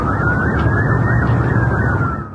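Emergency vehicle sirens wail loud and close in news footage of a firebombing attack in Richmond, Melbourne, with a wavering yelp over heavy traffic rumble and no talk.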